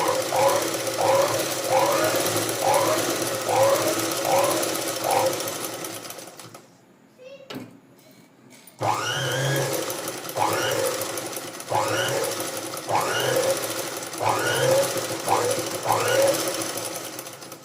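A sewing machine stitches a pico edge on a saree in quick, steady rhythmic bursts, briefly pausing before resuming, with a voice talking alongside.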